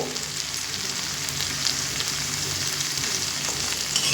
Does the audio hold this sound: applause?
no